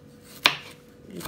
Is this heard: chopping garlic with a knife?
yes